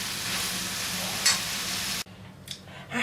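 Peppers and tomatoes sizzle loudly in a frying pan with a steady crackling hiss that suddenly drops away near the end, leaving faint clinks and stirring sounds.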